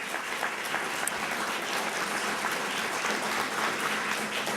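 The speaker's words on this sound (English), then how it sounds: "Let's give him a round of applause for helping us do this." A press conference audience applauds the supervisor: steady, dense clapping from a sizeable crowd, fairly loud and even throughout, with no talking over it.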